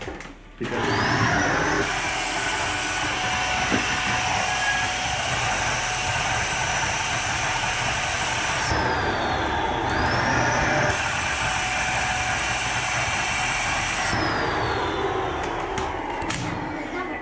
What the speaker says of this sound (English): We have our handy dandy vacuum here.